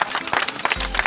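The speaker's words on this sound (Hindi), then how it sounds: "जोरदार तालियां" A burst of crowd applause at an army running race prize distribution, dense and steady clapping throughout the short moment.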